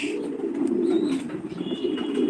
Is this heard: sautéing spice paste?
no